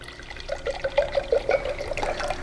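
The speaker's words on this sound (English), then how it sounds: "So we'll pour one glass, the furthest left, just straight from the bottle." Red wine is poured straight from the bottle into a glass, making a steady gurgling, bubbling trickle close by that rises slightly in pitch as the glass fills.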